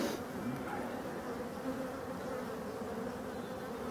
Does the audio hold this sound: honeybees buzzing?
yes